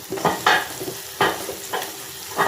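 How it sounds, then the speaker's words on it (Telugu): Potato pieces frying in hot oil for an aloo egg bhujiya, a steady sizzle broken by several bursts of stirring and scraping, fairly close and alone. "ఫస్ట్ కొంచెం ఆలుగడ్డ నూనెలో వేసుకోవాలి"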